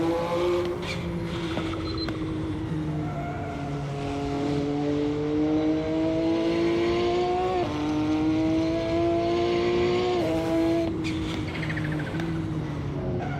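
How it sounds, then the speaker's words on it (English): Turbocharged Mercedes or Porsche race car in Assetto Corsa, its exhaust droning steadily up through the gears with rising and falling revs, brief shift dips and a faint turbo whistle, loud and continuous throughout. "you can't help but admire the sound of the exhaust on this, man. The sweetest sounding turbo I've heard in a long time"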